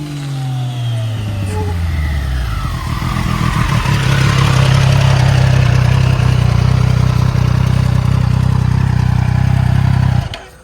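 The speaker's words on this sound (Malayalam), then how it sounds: "ഇതാണ് അപ്പോൾ ട്രയംഫിൻ്റെ സ്ട്രീറ്റ് മോട്ടോ 2 ബൈക്ക്" A Triumph Street Triple Moto2 motorcycle engine runs close by. A tone falls as it settles, then the engine holds a loud, steady idle hum for several seconds before cutting off abruptly.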